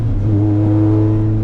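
A Lotus Exige S engine drones loudly and close on an open road, holding a steady, strongly tonal note for a short moment with no voices.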